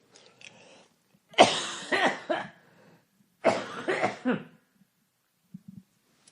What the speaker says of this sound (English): I'm going to try to talk through the coughs.